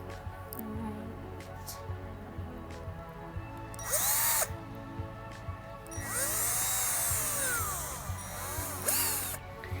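Power drill boring holes through a metal jigging spoon, giving several short whining bursts that rise and fall in pitch, with quiet pauses and handling between them.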